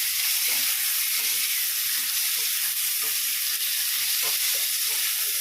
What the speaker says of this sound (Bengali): আলুর সাথে একটু ভাজা ভাজা হয়ে যাচ্ছে